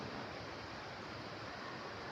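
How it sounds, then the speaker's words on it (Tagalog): Strong wind and heavy rain in Manila roar as a steady, dense wash of noise with no breaks or distinct drops, fairly faint and unbroken throughout. "Delikado kasi lakas ng hangin, lakas ng ulan"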